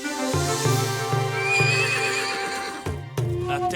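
A pony whinnies loudly while hooves clatter in a fast galloping rhythm, set against swelling orchestral music, in an animated cartoon.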